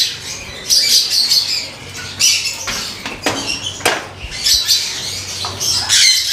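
Breeder canaries and their chicks in a cage, with busy overlapping squawks, chirps and high tweets, plus brief wing flutters and pattering movement, close and fairly loud without any voices.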